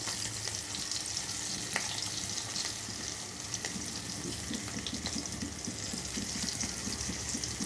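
Crushed ginger pieces and two broken dried red chillies frying in oil for a puffed rice mixture, a constant, gentle crackling sizzle with a few faint stirring taps, close and quiet.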